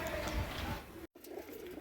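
Soft pigeon cooing among a busy murmur of birds, steady throughout, with a brief dropout just past the midpoint.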